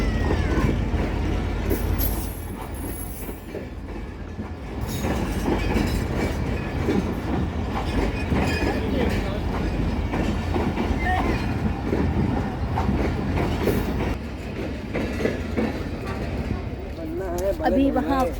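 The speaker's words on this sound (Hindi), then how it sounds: "ये प्लेटफॉर्म नंबर 2 पे आ गई है समन सरकार, जो कि मीरपुर से सुबह 10 बजे चली है" Samman Sarkar passenger train standing at platform 2 of Hyderabad Junction, its steady rumble and wagon clatter filling the station while someone talks over it and a horn-like tone rises near the end.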